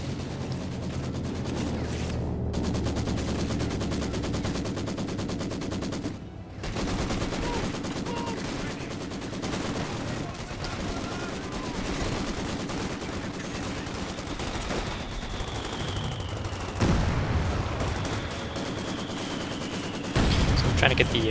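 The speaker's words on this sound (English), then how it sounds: "Elite here's got his own machine gun set up as well" Machine gun fire in Company of Heroes 2 runs as a steady, dense rattle throughout a busy battle, with occasional louder bursts and whistling shells; a voice talks over it at times.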